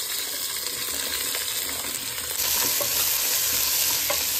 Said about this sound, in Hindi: अब ये सारी सब्जियाँ मैं भूनूंगी नहीं कुछ भी, जैसे प्याज पहले भून लेते हैं, तो मैं सबसे पहले ये सारी सब्जियाँ इसमें भून लेती हूँ डाल के।